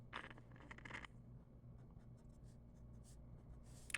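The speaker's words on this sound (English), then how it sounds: "I should probably not sketch too hard" A pencil sketching on paper, heard as faint, close scratchy strokes. Quicker scribbles come at the start, then lighter intermittent marks follow in a quiet room.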